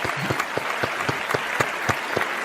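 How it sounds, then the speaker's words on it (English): Dense audience applause with rhythmic clapping accents, steady and fairly loud throughout, no voices over it. "Give him an applause."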